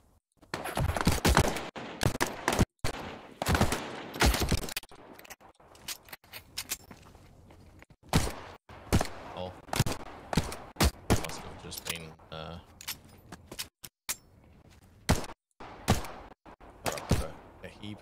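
Gunshots crack in bursts in The Cycle Frontier, a sci-fi shooter, with sharp close shots and short volleys scattered irregularly among thuds, with a voice talking now and then.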